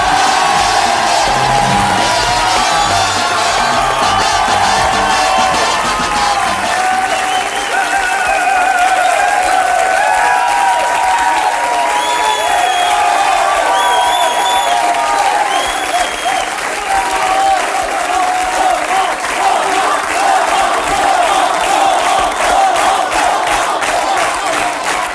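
Loud, sustained applause and cheering from a television studio audience greeting a guest on the French talk show Tout le monde en parle, a dense wall of clapping with whoops rising through it for the whole stretch.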